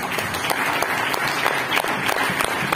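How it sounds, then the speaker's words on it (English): Business networking meeting audience clapping after a GIS and drone presentation; a moderately loud, steady burst of many hands with some distinct individual claps, continuous and without talk. "A big round of applause to Malcolm."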